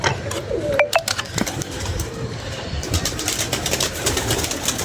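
Pigeons at a home loft coo and shuffle amid constant outdoor background noise, with sharp clicks and flutters scattered throughout.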